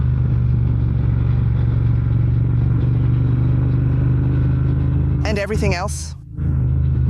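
A Triumph Speed Twin 1200 RS motorcycle rumbles steadily in city riding, a loud low engine drone throughout, briefly interrupted by someone speaking near the end.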